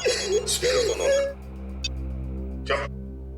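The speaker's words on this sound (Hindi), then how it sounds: "सर उस चश्मे वाले का फोन।" A telephone rings with a sustained electronic tone, heard close and steady throughout, while voices briefly speak over the start.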